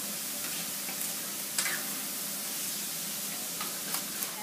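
Steady sizzle of moussaka mixture with salt, pepper and tomato paste being stirred in a pan, a close, even hiss broken by a few soft spoon scrapes.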